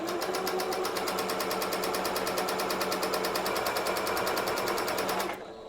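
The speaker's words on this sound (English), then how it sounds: "first I'm gonna start off by stitching, and then I'm going to do a back stitch" Sewing machine stitching tulle for a fluffy tutu, running in a steady fast rhythmic whir of needle strokes that continues loud and close for about five seconds before stopping abruptly.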